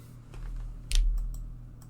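A few key taps on a computer keyboard during an AQW PvP podcast session, faint and sparse over a steady low hum, with one brighter click cluster in the middle.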